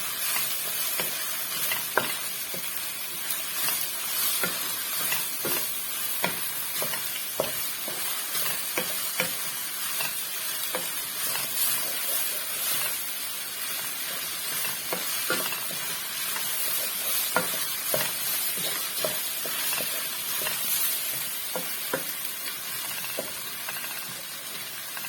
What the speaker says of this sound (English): You have to be turning the okra